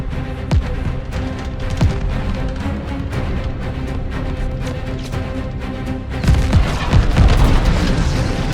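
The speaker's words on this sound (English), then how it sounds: "Watch that tracer fire." Anti-aircraft tracer fire during a bombing run in the Call of Duty Vanguard video game, a steady roar of dense booms and sharp bursts that swells louder near the end, with no talk.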